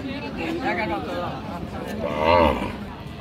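A Sahiwal cow at the Raniganj cattle market in Dinajpur gives one close, drawn-out moo near the end, amid the murmur of people talking at the market.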